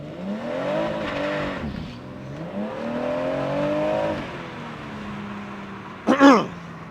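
BMW M140i hot hatch accelerating hard, its engine note rising through the gears with audible shifts between pulls, then a sharp, loud burst near the end.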